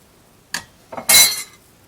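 A few metallic clinks and scrapes of a pan and utensils while the last pancake of a batch fries in a village kitchen, one short tap followed by a louder, longer scraping clatter, close by with no talking.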